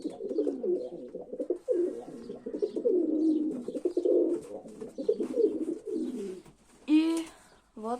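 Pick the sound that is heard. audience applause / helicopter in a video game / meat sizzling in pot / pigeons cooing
pigeons cooing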